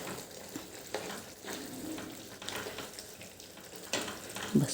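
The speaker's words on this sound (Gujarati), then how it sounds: "એક વખત એને આપણે આવી રીતે હલાવી લેવાનું છે" Dried chori (cowpea) vegetable with crushed kasuri methi is stirred in a pan, with soft scraping strokes over a light, steady sizzle and a louder clatter near the end.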